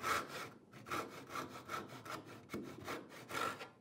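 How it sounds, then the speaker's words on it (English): A hand cross-cut saw cuts across a piece of wood in steady, rhythmic back-and-forth strokes, about eight rasping passes, close and moderately quiet with no talking. "that's how I would generally cross-cut using any of the cross-cut saws"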